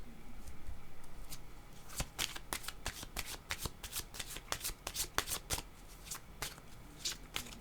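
Tarot cards are shuffled by hand for a reading, a series of sharp riffling snaps and flutters in irregular bursts, close and fairly crisp against a quiet room.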